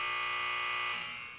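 A steady, harsh electronic buzzer tone holds for about a second, then fades out; loud and close, with no voices.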